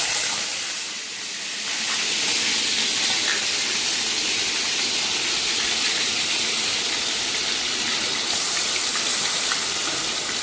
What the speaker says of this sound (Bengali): তেলটা গরম হলে তারপরে চিকেনের এই পেস্টটা করে রেখেছি এটা দেবো।